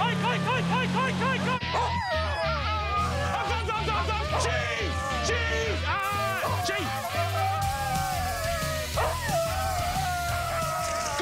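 Several sled huskies barking and yipping excitedly during a sled race start, overlapping, with whimpers and a steady rumbling drone beneath them throughout.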